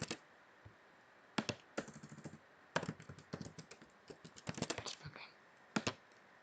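Bursts of quick clicks come from a computer keyboard as someone types. The keystrokes fall in irregular clusters separated by short pauses and sit close and clear against a quiet room.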